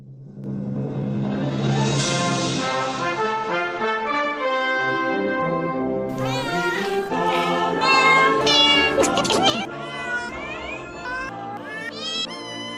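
A cat meows repeatedly in loud, drawn-out, pitch-sliding cries that run continuously, with a dense layered backdrop and a sharper burst of sound near the middle.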